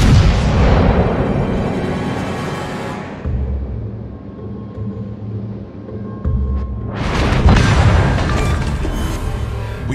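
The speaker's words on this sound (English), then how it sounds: "We've destroyed an enemy cruiser." An enemy cruiser blows up in a naval warfare game: a heavy, rumbling explosive boom fades over a few seconds, a low droning lull follows, then a second loud booming blast swells up near the end.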